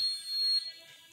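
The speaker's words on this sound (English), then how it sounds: "Not that beeping sound, it's so annoying." A thin, high electronic beep alarm in a video game holds steadily for about half a second, then fades into faint background hiss.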